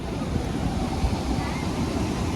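Steady roar of rushing water at Athirappilly waterfall, a constant broadband wash with wind buffeting the microphone and no distinct voices.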